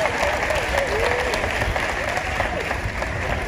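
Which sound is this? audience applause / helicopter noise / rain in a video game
audience applause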